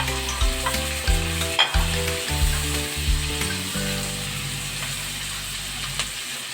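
Tomatoes sauté in a pan with caramelized onions for pork binagoongan, a steady close sizzle and stir running throughout, with a low tonal hum layered beneath and a few soft knocks.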